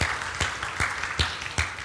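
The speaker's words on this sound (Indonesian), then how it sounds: "Mari kita berikan tepuk tangan bagi Dia" Rhythmic clapping from a church congregation during a GBI worship service, sharp, even beats about two or three per second, steady and fairly close, with no voices over it.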